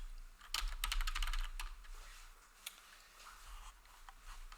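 A computer keyboard tapped in quick bursts of close, crisp clicks, densest in the first second and a half, then sparser keystrokes over a low steady hum.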